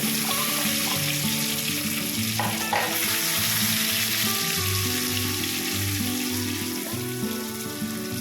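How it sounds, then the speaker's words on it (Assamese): Potato pieces frying in about 100 to 120 ml of oil for Kashmiri aloo dum, giving a steady, loud close sizzle throughout with a low hum beneath and an occasional stir or clink, and no voices. "এতিয়া ইয়াতে ৰঙচুৱাকৈ আলুখিনি আমি ভাজিম"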